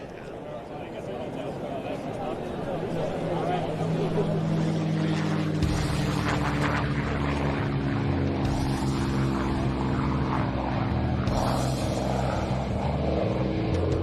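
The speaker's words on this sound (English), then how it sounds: "That's the sound of the Rolls-Royce V12 Merlin engine," A powerful P-51 Mustang's Rolls-Royce V12 Merlin piston engine roars steadily at an air show, growing louder as it revs, with a deep throbbing drone and some faint talk underneath.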